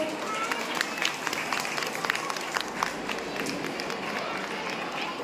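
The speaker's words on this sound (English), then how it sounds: "So please give a big round of applause." An audience at a school Independence Day celebration in Ooty claps in a dense, steady patter of applause that continues the whole time, with children's voices and chatter mixed in.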